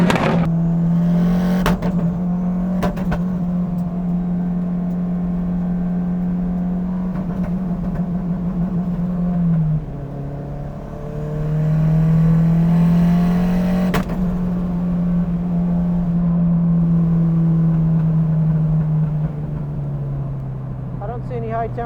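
A race car engine running during a lap at regional finals, a steady loud drone that drops abruptly midway as it cuts out on boost, then picks up again, with voices talking over it.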